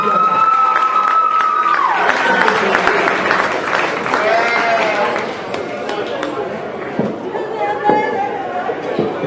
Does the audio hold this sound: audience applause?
yes